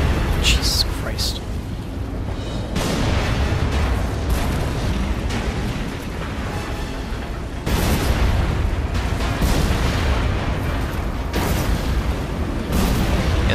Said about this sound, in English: this thing should have been demolished already with all these explosions